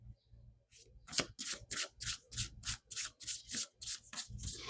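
Tarot cards are shuffled in the hands during a reading, a rapid series of rhythmic papery riffles and rubs, close and fairly loud, with no talk over them.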